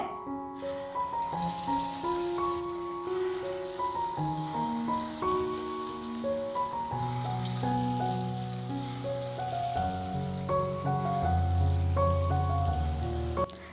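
Vada batter fries in hot oil on a medium flame, giving a steady, dense crackling sizzle like rain on a surface that runs throughout beneath prominent background music.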